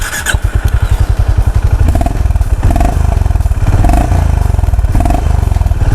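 A Honda CB350 RS motorcycle idles up close with a loud, rapid thumping exhaust beat, which rises into a few short throttle blips before settling back to a steady throb.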